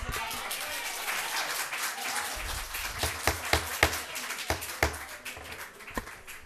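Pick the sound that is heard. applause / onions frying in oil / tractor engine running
applause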